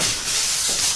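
Butter hissing and spitting in a hot frying pan while French toast cooks, a steady close sizzle with no talking.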